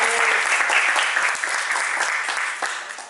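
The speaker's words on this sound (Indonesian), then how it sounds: "Tepuk tangan buat Ariel ya" Audience applauding Ariel in an Indonesian learning session, a dense burst of many hands clapping at close range that tapers off slightly toward the end.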